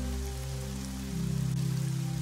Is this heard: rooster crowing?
no